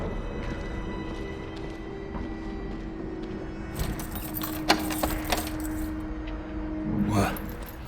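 A ring of keys jangles inside a Dishonored 2 game scene, a busy metallic rattle rising in bursts over continuous ambient game noise, with a louder clink midway and more jingling near the end.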